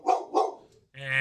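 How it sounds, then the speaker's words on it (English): A dog barks twice in quick succession, loud and close, followed by a sustained higher-pitched whine or yip as people pull in. "you're gonna hear the dog bark"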